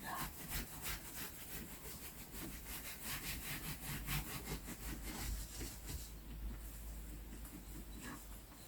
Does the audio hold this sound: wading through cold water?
no